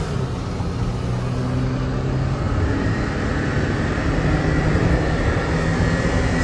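A turbo-swapped Daihatsu Mira engine runs in a steady, continuous drone with a low rumble and a faint high whine, sounding fairly close and alone without talk.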